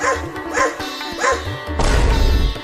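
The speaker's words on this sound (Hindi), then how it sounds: "वो कुत्ता मेरी तरफ दौड़ते हुए क्यों आ रहा है?" A dog barks three times in quick, evenly spaced woofs, close and fairly loud, followed by a burst of rough noise.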